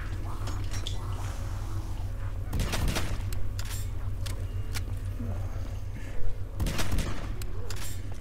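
Gunfire from the L4 Siege in a Minecraft zombies game, two heavy broadband blasts standing out over a constant low game drone, with a brief clatter between them.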